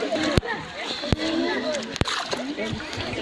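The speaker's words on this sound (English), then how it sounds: "You are rinsing for the second time?" Water splashes and sloshes as a fast-coloured cloth is rinsed by hand, close and lively with a few sharp slaps, while people talk over it.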